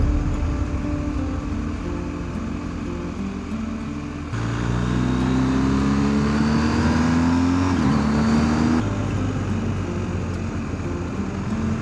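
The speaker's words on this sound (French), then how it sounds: "on a une belle petite 4L qui arrive" A Renault 4L passes on a country road in Dordogne, its engine note rising and then falling away over several seconds. It sounds over the steady close drone of a motorcycle engine and wind.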